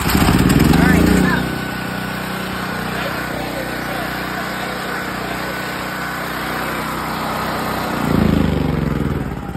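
A portable generator's small engine runs steadily and loudly, surging a little louder at the start and again near the end while someone speaks over it.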